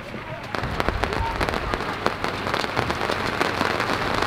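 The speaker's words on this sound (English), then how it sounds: "and here comes the rain." Rain falling steadily on a surface at a trailer park, a dense close patter of drops building up and continuing evenly throughout.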